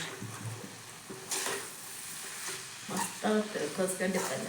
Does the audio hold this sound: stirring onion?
yes